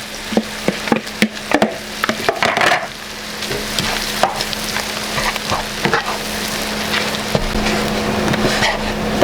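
Golden onions are stir-fried with peanuts in a pan for a savoury khanom thian filling: sharp clicks and scrapes up front settle into a steady, close sizzle with occasional spatula knocks, and no voices.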